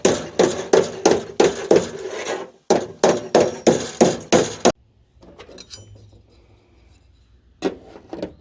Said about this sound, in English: a conventional hammer with the claw on the front for pulling nails